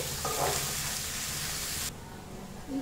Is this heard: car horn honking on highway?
no